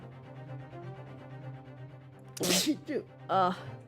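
An allergy-driven sneeze bursts out sharply, followed by a second shorter sneeze, over a steady background of game music.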